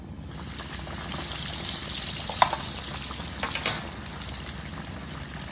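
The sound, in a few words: chicken Kiev deep frying in hot oil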